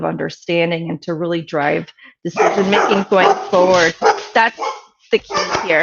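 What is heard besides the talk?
dogs barking at home in the background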